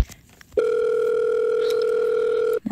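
Steady electronic phone tone from a cell phone after dialing 911 on the keypad, a loud continuous two-pitch hum lasting about two seconds, starting and stopping abruptly, with brief faint noises before it.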